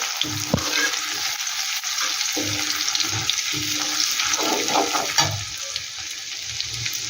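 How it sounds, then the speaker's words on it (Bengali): Grated ginger frying lightly in hot oil, a close, steady sizzle broken by spatula scrapes and stirring clinks, with no talking. "আদাটা একটু ভেজে নেব হালকা করে"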